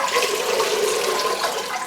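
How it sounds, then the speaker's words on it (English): Water poured steadily into a glass container holding a store-bought Phalaenopsis orchid in its pot, a continuous close splashing and gurgling rush with no break and no talk. "the harder you pour the water in, the more it will fill up every single crack"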